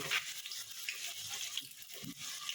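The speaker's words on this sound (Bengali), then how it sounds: "আলুটাকে ভালো মতো লাল লাল করে আমি ভেজে নেব।" Potato pieces frying in oil in a pan until reddish-brown, a continuous close hissing sizzle with occasional soft scrapes and stirring sounds, no talking.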